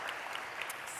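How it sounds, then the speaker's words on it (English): Audience applause at the 2025 Lush Spring Prize awards ceremony: a brief, steady burst of clapping from a crowd, fairly faint and sounding distant, lasting about a second. "A round of applause for the wonderful Tim Harland in memory of Tim."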